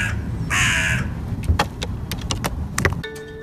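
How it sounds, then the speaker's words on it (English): A white crow caws in a series of loud, harsh calls, several short caws spaced across a few seconds over low background rumble, close to the microphone. "I befriended a white crow and now he visits me and he plays games with me."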